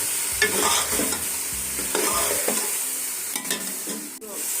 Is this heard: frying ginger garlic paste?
yes